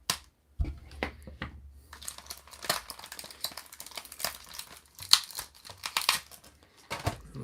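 Scissors snip a rubber band, then a He-Man Masters of the Universe Mer-Man toy package is opened up close. Crisp crinkling, rustling and tearing of plastic and card come in irregular bursts, with a few sharp snaps.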